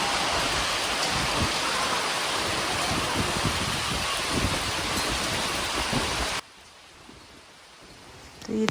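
Heavy hail pounds down during a storm in the Himachal mountains as a dense, loud, steady roar that cuts off abruptly and leaves a much quieter background.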